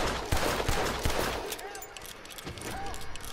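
Gunfire from Red Dead Redemption 2 cracks in several sharp shots over dense game ambience, with a few quick reports in the first second and fainter ones later.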